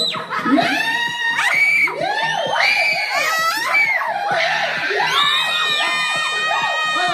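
Loud, continuous shouting, screaming and cheering from a crowd of adults and children during a family Christmas party game, voices overlapping and rising in excited bursts throughout.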